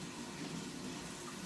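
Tap water runs steadily over a potato peeler in a kitchen sink, a soft continuous splashing rush with no talk.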